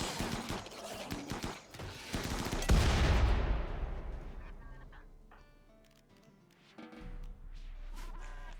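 Mortar fire in RimWorld: a clustered volley of booming, crackling blasts swells to a peak and fades into a quieter tail, with a few scattered pops afterward.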